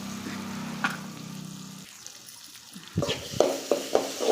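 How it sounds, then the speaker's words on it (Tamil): Chopped onions frying in oil in a pan for masala dosa, a sizzling hiss after a steady hum, followed by stirring scrapes and clatter. "நல்லா வெங்காயத்தை வதக்கிக்கலாம்"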